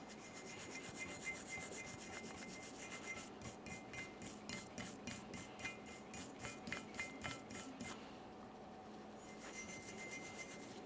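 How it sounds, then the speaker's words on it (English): A wire brush scrubs the brake caliper bracket mounting surfaces on a 2015-2019 Subaru Outback's rear brakes, a quiet rhythmic series of raspy back-and-forth strokes, close and alone. "Let's clean the mounting surfaces. I'm using a wire brush."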